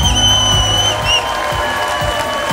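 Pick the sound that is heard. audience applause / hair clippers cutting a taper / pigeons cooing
audience applause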